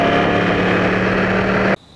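Yamaha R1 motorcycle engine revving hard at a dealership demo, a loud, steady, rough roar held close for nearly two seconds before cutting off abruptly to quiet.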